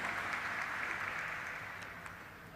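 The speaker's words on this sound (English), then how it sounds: "Let's have a round of applause, everybody, for all our dignitaries." Steady applause from an audience at a stock exchange listing ceremony for Popular Vehicles and Services Ltd, honoring dignitaries; a dense, even clapping texture that slowly fades toward the end, with no talking over it.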